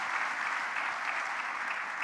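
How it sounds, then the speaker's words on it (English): An audience at a Youth Connekt event gives panelists a dense, steady wash of applause, a brief sustained roar of many hands heard from a distance with no speech over it. "A big round of applause."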